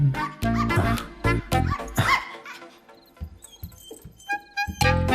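A dog barks several times in quick bursts, then lets out softer, high whimpers and yips, close by and loud.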